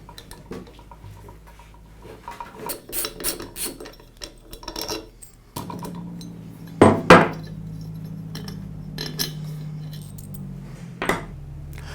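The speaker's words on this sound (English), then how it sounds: "It's held together with 4 bolts. I'll go ahead and remove those." Bolts being loosened and removed from the pump of a Ridgid Tri-Stack OF50150TS air compressor during a rebuild, with metallic rasping, clinking and jangling of tools and parts, a few sharp louder clanks partway through, close and without speech.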